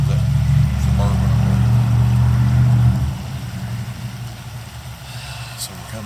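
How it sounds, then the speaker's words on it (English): A Chevrolet Suburban rolls past near a creek bed in the countryside, its deep engine rumble loud and steady for about three seconds before fading into a quieter low hum. "There goes that suburban."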